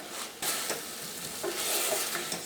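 Cooked beef for a Kerala pickle sizzles in an open pan as it dries down, with a dense, continuous hiss and occasional scraping stir strokes throughout.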